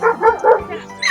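A dog at a dog show gives a few quick yipping barks, close and fairly loud, in a short burst with brief gaps between them.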